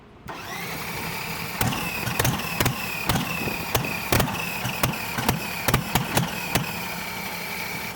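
Top Fuel dragster engine being started on 87-octane gasoline, heard up close as a steady mechanical whine punctuated by a series of sharp, irregular pops and cracks, with no talking.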